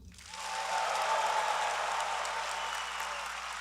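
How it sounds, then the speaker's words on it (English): A large crowd at an engineering master's commencement in a stadium bursts into practice applause that swells quickly and holds as a broad, reverberant wash of clapping. "So we're all going to clap for everyone."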